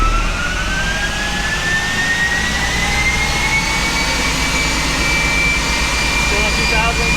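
A base 2007 Saturn Sky engine holds a steady 2,000 RPM in fourth gear on a dyno, a loud continuous drone with a thin whine that slowly climbs in pitch throughout.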